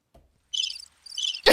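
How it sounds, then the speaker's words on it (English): Two bursts of cricket chirping, a comedic silence effect, ring out clearly after a faint thump, then an abrupt loud noise cuts in at the end. "all of a sudden you just hear all the crickets"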